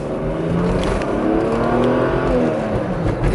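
A Mercedes-Benz W124 station wagon accelerates hard, its engine a steady, loud, rising drone with road and wind noise, heard from inside the car with no talking.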